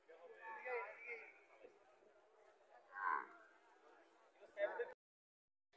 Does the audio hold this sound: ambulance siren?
no